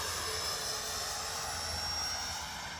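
An FMS Integral 80mm electric ducted-fan RC jet flies past under added power, its fan producing a steady, loud rushing whine throughout with no other sounds.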